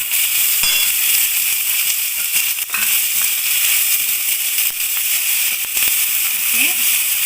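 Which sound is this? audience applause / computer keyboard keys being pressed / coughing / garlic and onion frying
garlic and onion frying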